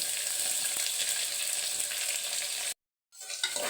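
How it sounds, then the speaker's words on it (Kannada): Onions crackle and sizzle steadily in hot oil for a home-made chitranna, a loud continuous fry that cuts out abruptly to silence before resuming. "ಈರುಳ್ಳಿ ಹಾಕಿ ಚೆನ್ನಾಗಿ ಫ್ರೈ ಮಾಡ್ಕೊಳ್ತೀನಿ."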